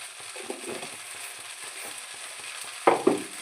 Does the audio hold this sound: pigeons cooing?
no